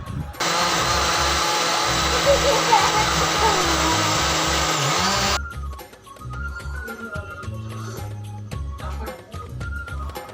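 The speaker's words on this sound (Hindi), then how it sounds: "अब हम इसको ग्राइंड कर लेंगे अच्छे से।" A kitchen mixer grinder whirs loudly and steadily, blending mango shake with milk and sugar, then cuts off abruptly after about five seconds, leaving quieter clatter and a low background voice.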